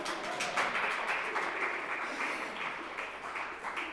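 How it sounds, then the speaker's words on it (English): A Unitarian Universalist church congregation at a Sunday service claps steadily together, a soft, even wash of applause that holds throughout. "Clap, clap, clap."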